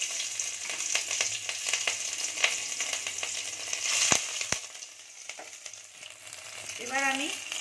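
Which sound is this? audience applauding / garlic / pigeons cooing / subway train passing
garlic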